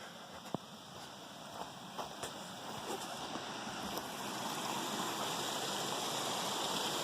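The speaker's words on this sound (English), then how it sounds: "And we have a little creek over here." A small creek runs with a steady, soft rushing of water beside a remote campsite in Idaho, with a few faint clicks over the constant flow.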